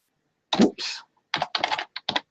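Computer keys are pressed in short bursts, a few quick keystrokes with brief gaps, close and clear with no talking.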